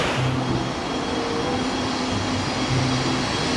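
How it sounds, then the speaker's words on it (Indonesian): A green toy speed train runs with a continuous close whirring and rattling hum, steady throughout and with no talking. "Ini adalah mainan kereta api cepat teman-teman, atau train speed ya"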